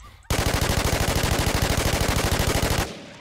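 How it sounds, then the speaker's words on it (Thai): An MP5 fires one sustained fully automatic burst in the online shooter game Infestation, a loud, rapid, evenly spaced rattle of shots lasting over two seconds, then stopping abruptly. "เฮ้ยปืนนี้ไม่ดีดเลยว่ะปืนนี้ยิงตรงดีว่ะ"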